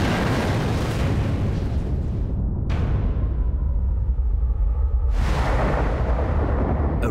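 A bomb explosion roars as a loud, sustained rumbling blast, dropping briefly into a deep low boom before a second surge of broadband roar returns; no voices are heard.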